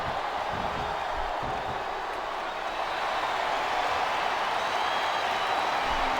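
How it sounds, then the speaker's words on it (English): A large wrestling arena crowd fills the space with a dense, steady roar and murmur, loud and continuous throughout with no single voice standing out. "Sounds like this crowd's got something on their minds, King."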